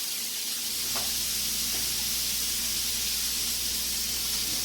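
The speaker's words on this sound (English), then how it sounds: "I'm still just kind of stir frying it around until it's sizzle" Steady broadband sizzling hiss of chicken stir-frying in a hot pan, continuous throughout, with a couple of faint clinks early on.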